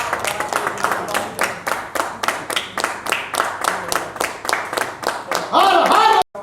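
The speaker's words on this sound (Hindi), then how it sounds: "आइए। तालियां।" Audience clapping at the Dadasaheb Phalke Icon Award Films International ceremony in Dubai, a steady run of bright, evenly paced claps that rises and thickens near the end before cutting off abruptly.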